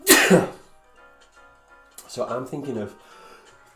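A single sharp sneeze bursts out loudly at the start, close to the mic, followed by a short pause and then a person speaking briefly.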